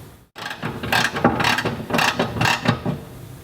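A ratchet tightens the front bolts of a fuel tank guard on a Land Rover Defender Puma: close, loud, rhythmic bursts of rapid clicking repeat about twice a second after a brief silent gap at the start.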